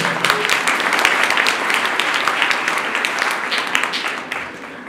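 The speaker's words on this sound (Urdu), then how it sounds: "ان بچوں کے لیے زوردار تالی۔" Church congregation applauding for the children at a Sunday Advent Mass, a loud, steady wash of clapping that tapers slightly near the end, with faint voices underneath.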